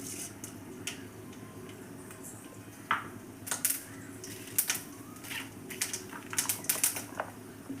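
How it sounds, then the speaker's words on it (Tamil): Mustard seeds popping and spluttering in hot sesame oil in a pan, scattered sharp crackles at irregular intervals over a steady low background, fairly faint and with no voices. "அதில் நல்லெண்ணெய் ஊற்றிக்கிட்டோம் இப்போ கடுகு போட போகிறோம் கடுகு நல்லா பொரிஞ்சு வரட்டும்"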